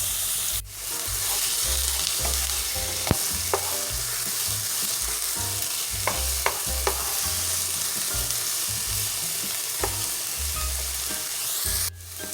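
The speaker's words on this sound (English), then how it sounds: "Now we're going to add in our onion and green pepper. We're going to let that saute for 3 minutes." Onion and green pepper sauté in a hot pan with a loud, continuous sizzle that holds steady throughout, punctuated by a few sharp clicks and pops, with no voices.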